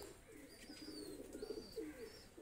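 Pakistani pigeons coo in low, throaty rolling murmurs, several overlapping calls close by, with faint higher chirps above a steady ambient hum.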